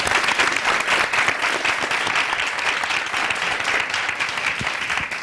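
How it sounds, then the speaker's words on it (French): Studio audience at a TV show applauding steadily, a dense, sustained wash of clapping that fills the whole moment without pause. "Applaudissez pour eux."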